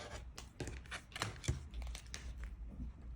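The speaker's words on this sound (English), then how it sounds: "Cut in my curve cutout." Scissors cutting a curved shape through quilting fabric along a ruler's dashed lines, a few quiet snipping and slicing strokes close by, soft and brief, with no talking.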